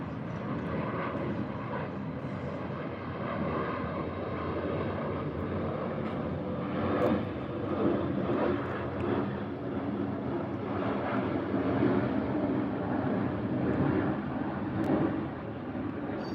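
A propeller airplane drones steadily overhead, a broad continuous rumble that swells slightly midway and stays loud throughout.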